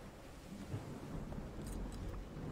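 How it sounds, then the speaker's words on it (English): Rain in the video game Call of the Sea, a steady rushing patter with a low rumble of thunder beneath, fairly faint and continuous. "I can hear the rain."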